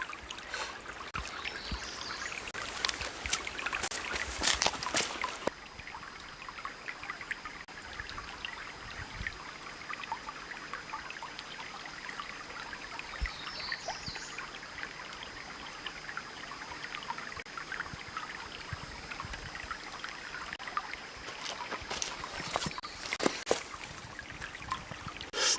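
Water seeping into a hand-dug well through silt, a steady soft trickling and dribbling that carries on throughout, with occasional louder splashy moments near the start and end.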